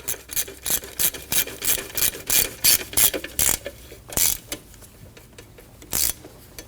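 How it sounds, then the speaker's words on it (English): A ratchet clicks in quick bursts while tightening the alternator bolt on a 2003-2006 Subaru Baja 2.5L H4, close and crisp, a run of even strokes followed by a few slower, spaced clicks. "And tighten down the alternator bolt."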